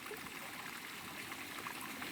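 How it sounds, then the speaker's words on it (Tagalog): Spring water gushes strongly out of the ground on a mountainside, giving a steady, even rushing and trickling sound throughout, fairly faint, with no voices. "napakalakas ng tubig na lumalabas mula dun sa lupa"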